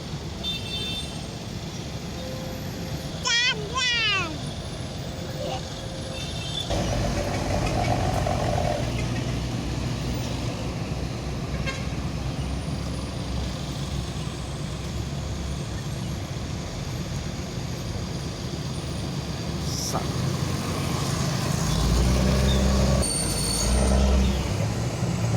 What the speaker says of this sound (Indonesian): Nah, Nissan double decker dari Pekanbaru.